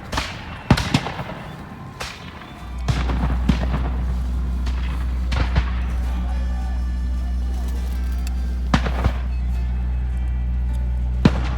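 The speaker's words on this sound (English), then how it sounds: "Some musket firing." Revolutionary War reenactors firing muskets heard from a boat, several sharp distant reports spaced irregularly over a steady low engine drone, with faint voices in between.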